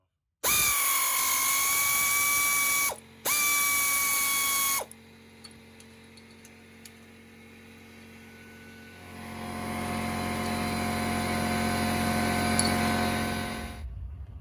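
An air ratchet works a nut loose on a 1998 Toyota 4Runner during a belt replacement, sounding two loud, steady pneumatic whirring bursts up close, followed by a quieter mechanical hum and a compressor kicking on toward the end.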